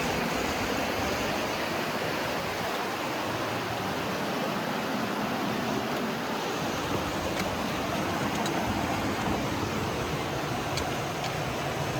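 Water rushing steadily beside a hiking trail on the Appalachian Trail, a constant broadband roar of a stream or falls that stays loud and unbroken throughout with no voices.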